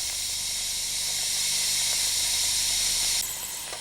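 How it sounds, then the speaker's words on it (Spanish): Steam hisses through the injectors of a steam locomotive as they are tested, a loud, steady rushing hiss that holds for several seconds and then drops off abruptly near the end. "deben comprobarse los inyectores, dejando salir primeramente el agua y a continuación dando paso al vapor"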